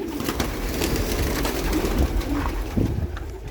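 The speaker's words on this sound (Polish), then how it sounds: "Dwa młode pocztowe karmią." Young homing pigeons are fed in a loft, with steady soft cooing and fluttery bird calls close by and no talking.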